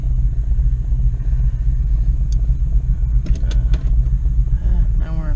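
A Land Cruiser (LSFJ) truck rolls along in fully locked four-wheel drive with the rear diff lock engaged, a steady low engine rumble throughout, a few faint clicks, and a brief voice near the end.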